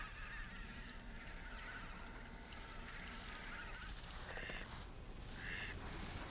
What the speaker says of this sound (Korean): 낙곡을 먹는 오리과의 물새들이 주로 찾아든다.